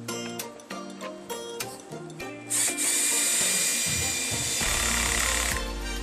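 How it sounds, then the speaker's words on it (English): A ratcheting drill-driver in screwdriving mode, used while building an Adirondack chair, clicks in a few short bursts, then runs loud and continuous with a rapid ratcheting rattle, close to the listener. "That ratcheting sound,"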